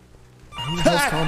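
A telephone rings in the horror video game Left to Rot, starting abruptly after a quiet stretch and sounding fairly loud and close, with a repeating bell-like warble.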